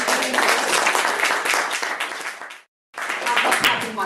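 Dense audience clapping at a talk in a pub, loud and sustained, cut by a brief silence before the clapping resumes just as strongly.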